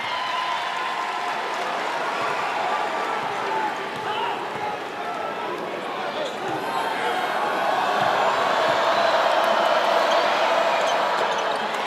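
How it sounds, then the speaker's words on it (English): A home crowd cheers steadily at a Wake Forest basketball game against Virginia, a loud continuous arena roar that swells toward the end. "Best crowd of the season"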